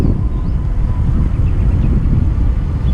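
An Oraimo Monster 100 electric scooter runs at full throttle on the road, heard as a steady low rumble mixed with heavy wind buffeting the microphone, loud and continuous with no voices.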